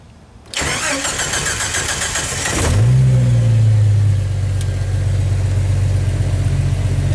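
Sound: Jeep Wrangler YJ engine starting from cold

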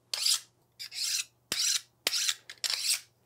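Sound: sharp knife cutting tapers in foam

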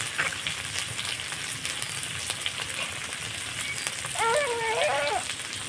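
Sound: green chillies and turmeric sizzling in hot oil

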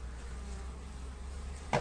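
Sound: honeybees flying at beehive

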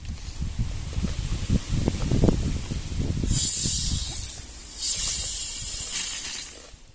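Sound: rock salt being poured into jar

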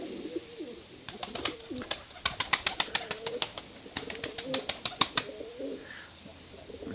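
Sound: breeding birds cooing in a cellar

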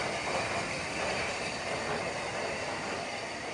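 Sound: steam locomotive Cheltenham, Schools class, Bluebell Railway

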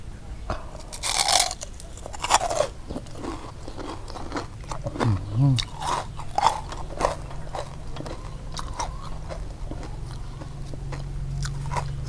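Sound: crunching crispy pork while eating

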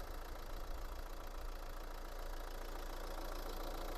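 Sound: car engine idling

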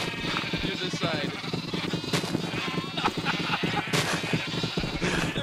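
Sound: sheep bleating in Minecraft video game

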